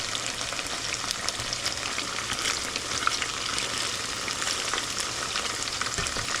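Soft tofu fries in a pan with a dense, continuous sizzle and crackle, close and steady throughout, with occasional stirring noises and no talking.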